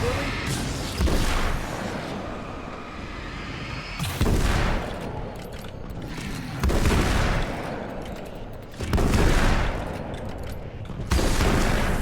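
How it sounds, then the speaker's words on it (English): Sawn-off shotgun blasts in Alan Wake's American Nightmare, five loud booming shots spaced a few seconds apart, each followed by a lingering rumbling decay. "I very much like the sawn-off shotgun. That definitely works"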